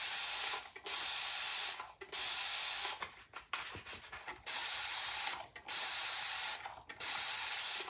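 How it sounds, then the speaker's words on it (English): Water sprayed from a spray bottle onto a chalkboard eraser, a series of about five sharp hissing bursts in a quick, uneven rhythm, close and loud, with short mechanical clicks between them. "Let's spray this down."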